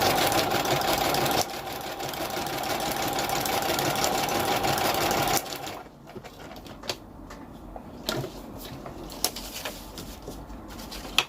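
A sewing machine runs a decorative stitch pattern with a steady, close motor whir for several seconds, then stops and leaves sparse clicks and handling taps.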